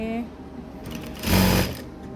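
A sewing machine stitches steadily close by. Its whirring rhythm swells loudly for a moment partway through, and a voice is faintly present in the background.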